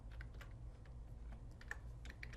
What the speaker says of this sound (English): then start typing whatever your text is going to be